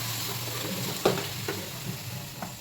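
Chili powder stirred into onion curry frying in a pan, a continuous gentle sizzle broken by a few distinct spoon scrapes and knocks, no talk.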